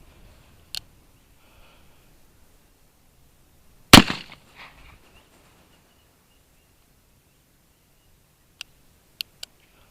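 An Uberti 1849 Pocket percussion revolver fires a single sharp cap-and-ball shot outdoors, a loud crack with a brief tail, surrounded by a few faint clicks and small snaps from handling the gun.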